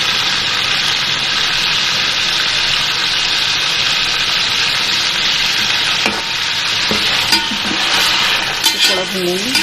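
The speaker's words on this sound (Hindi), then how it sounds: "थोड़ा भूनेंगे।" Garlic frying and being stirred in a pot while cooking nalli pulao, a steady loud sizzle throughout with a few scraping clinks of the spoon against the pot toward the end.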